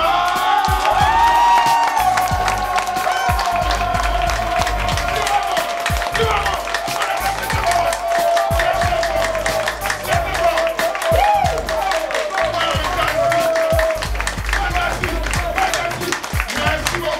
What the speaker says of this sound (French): Mesdames et messieurs, si vous êtes bien, nous allons donc applaudir très très fort